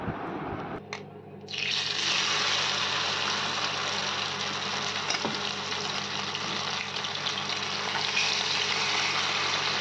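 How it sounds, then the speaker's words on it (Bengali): Amudi fish fry in oil in a pan, a soft sizzle that swells into a steady, close frying hiss after a brief quieter start, with a faint low hum beneath and no talking. "তুলে নিয়ে এবার বাকি মাছগুলো ভেজে নেব একইভাবে।"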